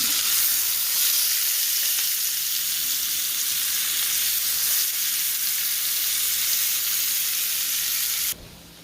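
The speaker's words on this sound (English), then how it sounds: "I am just trying to get a nice sear on these steaks." Steaks sear in a hot pan with a strong, even hiss that stays steady and close for most of the stretch, then drops off suddenly near the end.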